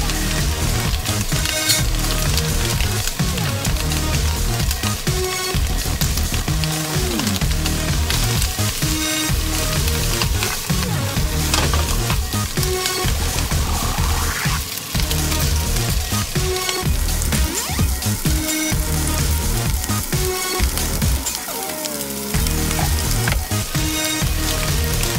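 Boiled spaghetti frying in a pan for Japanese spaghetti napolitan, a steady loud sizzle and crackle that runs unbroken for the whole stretch, close up and with no voices.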